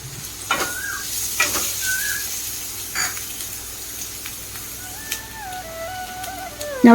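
Finely chopped onions hiss in hot oil while being stir-fried for a Chinese-style Brussels sprouts dish, a soft sizzle broken by a few stirring scrapes and clicks.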